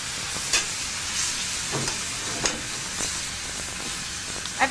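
Spare ribs frying in a pan with sauce, a continuous loud sizzle and hiss with occasional spits and pops.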